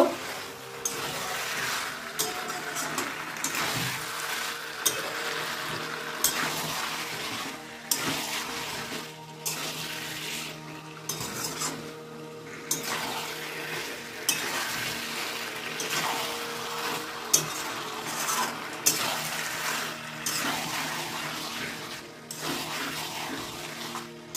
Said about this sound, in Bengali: আমি এবার মশলার সঙ্গে আলুটা আর মটরশুঁটিটাকে ভালো করে কষিয়ে নেব।